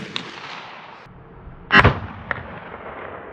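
A hunting rifle fires while being sighted in at a range: one loud, sharp shot booms and decays, bracketed by a couple of fainter distant pops over quiet outdoor background.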